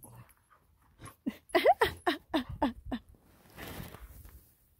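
A female puppy pants and whimpers up close, a run of quick high yelping whines and breathy gasps, then a softer stretch of panting with no voices.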